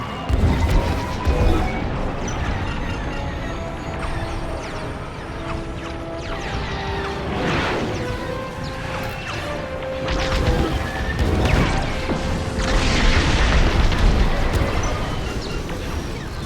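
Star Wars Squadrons spaceship combat gives a dense, continuous run of crashes, impact thuds and explosions over a steady engine roar, with louder blasts rising and falling throughout.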